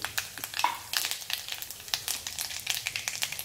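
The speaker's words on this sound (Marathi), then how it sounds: "तेलामध्ये आपण थोडंसं जिरं घालून घेऊया. आणि थोडंसं राई," Cumin and mustard seeds sizzle and pop in hot frying oil, a steady close crackle with frequent sharp spits and small bursts throughout, no voices.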